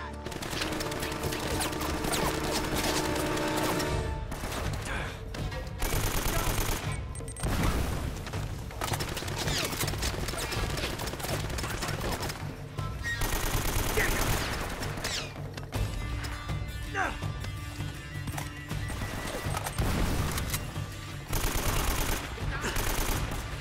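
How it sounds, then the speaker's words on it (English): Gun battle in the Uncharted: Drake's Fortune video game, with dense, sustained bursts of automatic fire and shots rattling on over nearly half a minute, loud and close, mixed with game effects and some voices. "there's gonna be a gun battle. Yep, perfect place for a freaking gun battle"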